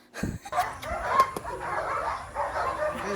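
A bomb-sniffing detection dog at a demonstration gives a sharp bark or two near the start, then a steady murmur of crowd and outdoor noise carries on beneath.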